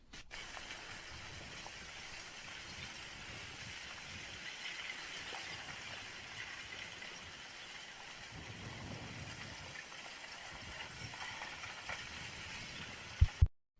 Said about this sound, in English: a strange sound with these craggy, rough lava flows